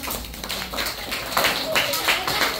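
Classroom audience applauding a student quiz team, a steady burst of clapping with scattered hand taps throughout, moderately loud and close, with voices mixed in.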